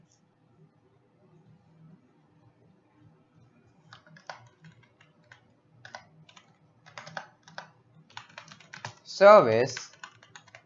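Quick bursts of keystrokes on a computer keyboard, light and close, clustering into short runs with pauses, while a voice briefly speaks over the clicking near the end.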